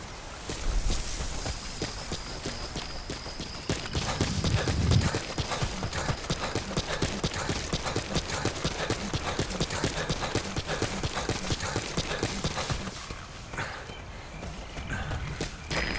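Steady clip-clop of horse hooves walking at an even pace, fairly close, over a faint ambient background with no talking, in the video game Metal Gear Solid V: The Phantom Pain.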